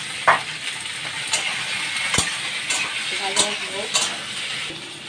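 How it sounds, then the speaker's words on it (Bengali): Boiled potatoes and guri kochu taro fry in a pan, a steady sizzle broken by several sharp clinks and scrapes of a spatula stirring against the pan. "এবার সিদ্ধ আলুগুলো দিয়েও ভাজবো।"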